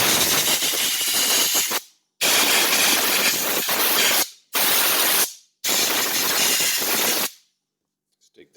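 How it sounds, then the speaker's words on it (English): Air compressor nozzle blowing out an RC drag racing motor in four loud, close hissing blasts of about two seconds each, separated by short silent gaps, with a faint clatter after the last burst. "Now, I'm going to take my air compressor and,"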